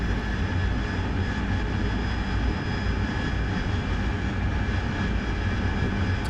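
Harrier jet engine in the flight simulator DCS World, a steady dense turbine roar with a constant high whine, running unchanged and loud throughout, no voices.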